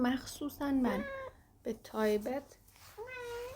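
A kitten meowing several times in high, bending cries, close and fairly clear, while a person speaks over and between the meows.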